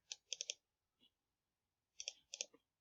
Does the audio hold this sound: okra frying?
no